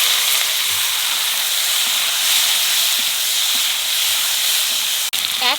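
Tomatoes land in a hot pan while cooking chickpea greens, setting off a loud, continuous hiss and sizzle that holds steady throughout, ending in a short clunk.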